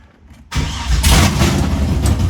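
A Drift V engine cranks and fires up after a brief quiet start, then settles into a loud, steady, rumbling run close by with no talk over it.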